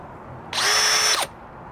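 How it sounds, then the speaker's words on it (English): A power drill whirs at its highest speed while polishing a plastic car headlight with a Meguiar's Heavy Duty headlight restoration kit, a single loud, steady high-pitched spin of under a second that starts and stops abruptly. "we're gonna go ahead and put our drill to the highest speed"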